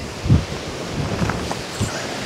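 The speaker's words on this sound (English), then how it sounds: "a gust just came straight in and snapped that pole that you can see sticking up there" Storm Bert's strong gusts, around 40 mph, batter an X-Mid 2 and an MSR Elixir 2 tent. The roar is loud and steady, with sharp buffeting thumps against close microphone rumble and no voices.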